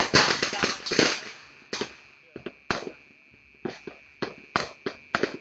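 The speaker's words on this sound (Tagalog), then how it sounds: "Paputok." Sharp firecracker pops go off in a dense burst, then in scattered single and double bangs echoing at moderate distance.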